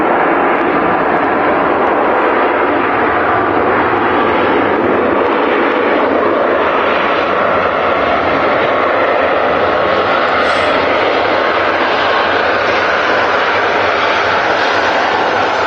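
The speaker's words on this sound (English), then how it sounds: "looks like we've got 3 Ryanairs followed by a British Airways in close succession now" Ryanair and British Airways jet airliners at Manchester Airport, heard as a loud, continuous broadband engine roar that stays steady for the whole stretch, with no talking.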